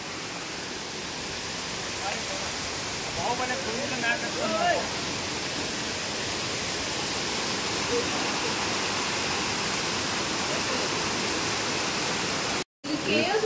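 Steady, broadband rush of falling water at Bheemeshwar waterfall, running low, continuous and fairly close, with faint voices briefly audible beneath it.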